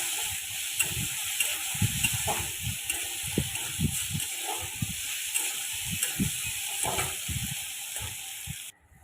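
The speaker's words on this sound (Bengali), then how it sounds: "আদা বাটাটি আবার একটু ভালো করে ভেজে নেব" Ginger paste frying with onion and tomato in oil: a continuous soft sizzle with scattered crackles and the scrape of stirring throughout, fairly close and steady.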